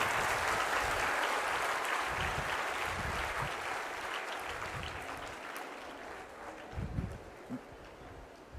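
An audience applauds at a motivational talk, a broad wash of clapping that thins and fades toward the end, with a few scattered, louder individual claps near the close.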